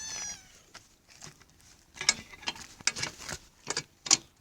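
A cat meows a couple of times up close, followed by scattered clicks and light mechanical rattles with no talking.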